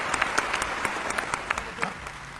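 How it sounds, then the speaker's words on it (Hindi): Audience applause at a Hindi talk or stage show, a steady wash of clapping hands with sharper individual claps popping through, fairly close and continuous throughout. "आपकी तालियां मिले"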